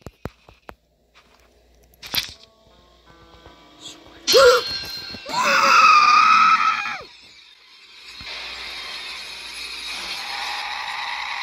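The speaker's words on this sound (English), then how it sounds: "My throat hurts now because of the scream." A person lets out a loud, sustained scream lasting about two seconds while playing the horror game House of Slendrina. Sharp bangs come before it and quieter voice sounds follow.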